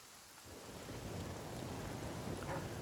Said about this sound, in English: while it's all raining and miserable out there